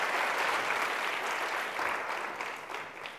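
Audience applause at a lifetime achievement award ceremony during a women in clean energy symposium, a dense steady clapping from a crowd that tapers slightly toward the end, with no talk over it.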